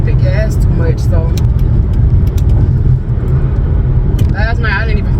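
A car engine runs steadily as the car drives, a low continuous rumble under a person talking throughout, with a few short clicks and rattles inside the cabin.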